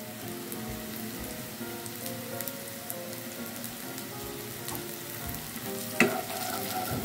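Spice paste with galangal and lemongrass is stir-fried, giving a continuous crackling sizzle, with a brief clatter near the end.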